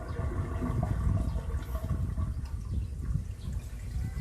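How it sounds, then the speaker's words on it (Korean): A household living-room toilet on a house with a blocked drain and a septic tank left unpumped for over ten years being flushed, a close, loud rushing gurgle of water that swells early and then settles into a steady draining churn. "여기 거실 화장실 물한번내 화장실 물 한 번 내려봐."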